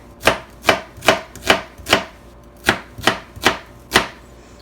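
A knife slices through small onions on a cutting board in nine crisp, evenly spaced cuts, close and clear with no voices.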